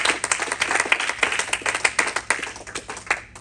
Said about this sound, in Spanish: no sé si le dan un aplauso diciendo amén